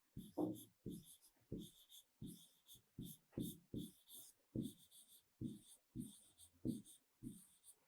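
A sentence is written by hand, a quiet run of short pen strokes in irregular bursts, close and soft, with no other sound around it.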